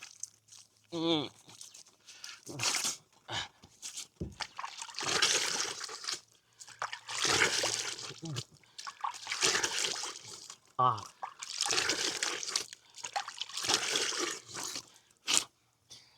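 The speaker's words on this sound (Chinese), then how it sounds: "所以说多挤一点洗面奶，好好洗一下" Water splashes and sloshes in bursts as someone washes their face with cleanser outdoors at a campsite, repeated scooping and rubbing sounds close by, with a voice speaking between splashes.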